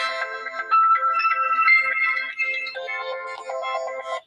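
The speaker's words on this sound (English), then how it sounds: "So yes, y'all, I'm getting a phone call." A phone ringtone plays for an incoming call, a bright melodic electronic tune with a repeating pattern of chiming notes, clear and close, then cutting off.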